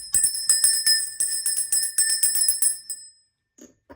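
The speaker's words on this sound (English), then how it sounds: "Oh, wait, the bell." A small bell rings in a rapid run of bright metallic strikes for about three seconds, close and clear, followed by a few faint soft knocks.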